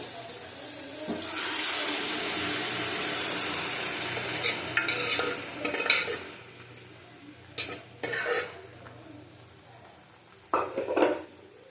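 Chana dal lentils tipped into a pan with potato and pumpkin, a rising hiss of frying followed by scraping spoon strokes and clinks of a utensil against the pan, fairly quiet and close.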